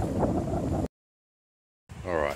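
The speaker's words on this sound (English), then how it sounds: "Sorry about the wind, guys." Wind buffets a microphone outdoors at a camper trailer build site, a loud low rumble in two bursts separated by a stretch of silence, with a brief voiced sound at the end.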